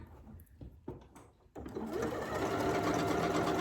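A Janome Memory Craft MC9450 computerized sewing machine stitching a built-in star design, starting with a few clicks and short bursts before settling into a loud, steady, fast mechanical whir that runs continuously and close up.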